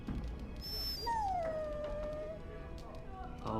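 A dog whimpers in the video game Dragon Age Origins Awakening: a thin, drawn-out falling whine near the middle, heard over steady game background sound, with a brief higher yip before it.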